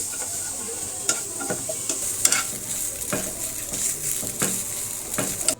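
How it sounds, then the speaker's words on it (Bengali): Spiced chicken pizza topping lightly frying in a pan, a constant bright sizzle with repeated spatula scrapes and clinks at irregular intervals, close by and without talk. "হালকা ভেজে নিব আমি"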